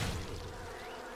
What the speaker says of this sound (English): I just applied bees.